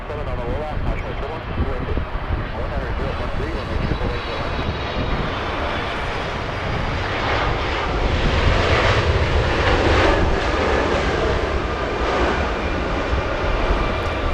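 An EVA Air airliner at Los Angeles International Airport roars with a steady, loud jet rumble that fills the whole stretch and swells slightly toward the middle.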